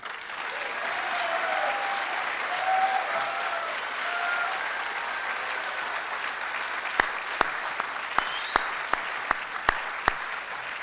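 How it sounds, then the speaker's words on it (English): Broad, sustained applause from the crowd at the 2013 California Maritime Academy commencement rolls on for several seconds. It then gives way to a handful of loud, isolated claps close by. "I ask the graduates to give them a round of applause"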